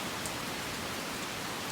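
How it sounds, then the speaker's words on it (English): Rain falling steadily, a dense even hiss with scattered drop patter, constant and fairly loud throughout with no voices. "Yeah, this is just a rain video."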